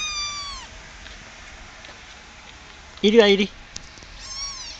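A young kitten gives a single clear, close meow in mid-clip, heard between faint high-pitched calls and soft talk from a person nearby.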